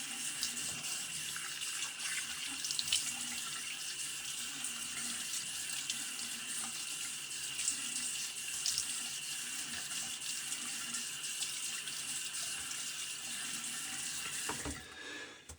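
Bathroom tap running steadily into a sink for a rinse during a shave with a Schick Type F injector razor, a constant splashing hiss that holds for about fifteen seconds before cutting off near the end.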